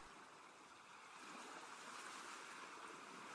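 Soft ocean waves wash steadily after a storm, a gentle continuous surf with a faint airy hiss that swells slightly louder toward the end, with no voices.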